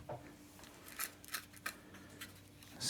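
Scissors trimming material while fitting a tool-battery adapter for a diesel heater, a few faint separate snips over a quiet background hum with no speech.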